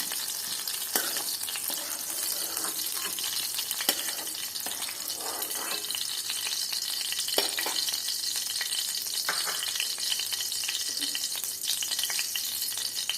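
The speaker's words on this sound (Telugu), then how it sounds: "పచ్చిమిరపకాయలు కూడా వేగిపోయింది" Green chillies fry in a pan while mint chutney is being made, giving a steady close sizzle and crackle with occasional stirring scrapes and no talking.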